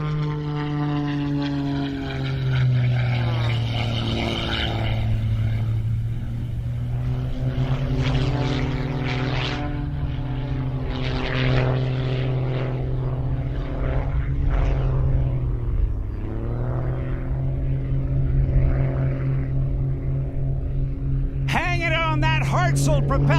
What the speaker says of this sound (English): watch him as he gets on airspeed building up to almost 300 miles per hour in the Wheelan Aerospace Technologies Extra 330 SC